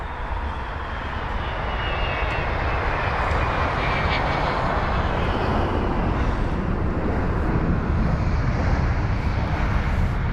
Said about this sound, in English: There's the United 767 now for arrival